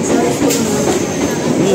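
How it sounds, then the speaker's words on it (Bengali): A train pulling into a station on the line to Canning, a loud, continuous rumble and rattle of carriages with faint squeals from the wheels, close by, with some voices underneath. "আমাদের ট্রেন এসে গেছে। আমরা ট্রেনে উঠবো, আমরা যাবো এখন ক্যানিংয়ে।"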